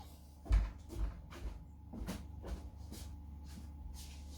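A front door is unlocked and opened for a visitor, producing a heavy thump followed by a series of clunks and rattles, close by and indoors with no speech.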